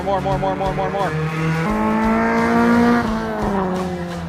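A car revs hard while sliding around a track, its engine pitch climbing in steady steps through the gears, loud and close for the whole stretch.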